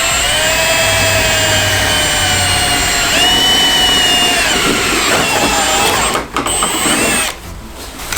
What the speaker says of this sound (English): make sure we get our drill bit, make sure it's sized up to the rivets that come with the kit